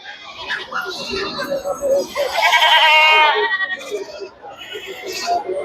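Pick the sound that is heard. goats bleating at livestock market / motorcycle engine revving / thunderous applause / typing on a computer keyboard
goats bleating at livestock market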